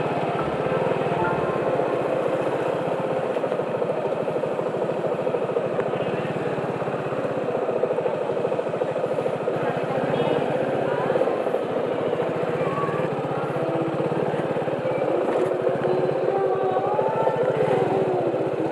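A motorcycle engine runs steadily in third gear on a solo touring ride in Gujarat, a continuous mid-level drone with wind noise and no pauses.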